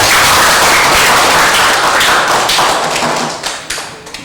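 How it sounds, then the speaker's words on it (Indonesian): A classroom of students applauds a classmate, loud close clapping mixed with thumps and taps that starts at full strength and fades into scattered final claps. "Baik, tepuk tangan untuk temannya."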